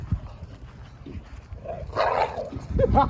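A female American Staffordshire Terrier barks and yips in short bursts, close by and fairly loud, mixed with low rumbling noise and some faint voices in the background.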